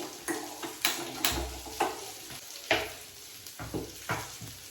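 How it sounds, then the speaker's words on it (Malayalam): Food sizzles in a pan with repeated sharp scraping strokes of a utensil stirring it, close and fairly loud, with no voices. "അപ്പോ നമുക്ക് വറുത്തിടാം കേട്ടോ വെള്ളപ്പയർ കറി"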